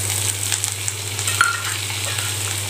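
Chopped carrots and green peas sauté for millet upma, a close, steady sizzle with small stirring scrapes and one brief clink, no voices.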